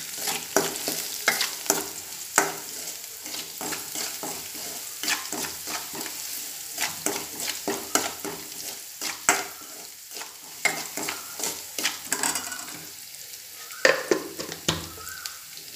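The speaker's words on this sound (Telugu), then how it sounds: "ఈ వెల్లుల్లి పచ్చిమిర్చి వేగిన తర్వాత సరిపడినంత ఉప్పు" Garlic and green chilies sizzle steadily in a hot pan for Bhutanese ema datshi, with frequent scraping stirs of a spatula cutting through the frying hiss.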